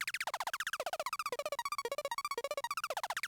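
Synthesizer patch whose pitch is driven by an envelope, playing a fast run of short repeated notes that sweep and warble up and down in pitch, bright and buzzy, alone without speech.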